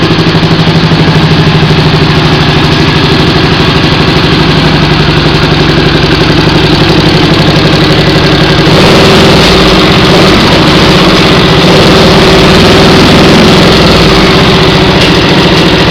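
A Honda CX500 motorcycle engine idles loudly and close with a second attempt at homemade mufflers, its rough, uneven throb suggesting a misfire, with a slight shift in tone partway through.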